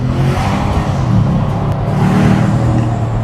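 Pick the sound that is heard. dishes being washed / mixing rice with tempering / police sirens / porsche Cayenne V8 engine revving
porsche Cayenne V8 engine revving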